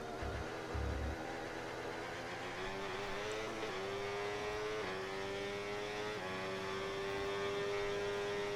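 An Audi Formula 1 car in a racing game on a wet Canadian Grand Prix circuit, its engine droning and climbing in pitch through several upshifts, each gear change dropping the tone before it winds up again, steady and close.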